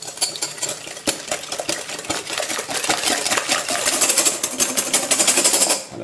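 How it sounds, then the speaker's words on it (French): Three eggs and sugar are whisked in a large bowl, producing a constant buzzing whir with rapid rattling clatter against the bowl that grows slightly louder and denser toward the end. "je vais rajouter le sucre et on va fouetter pour faire blanchir l'ensemble"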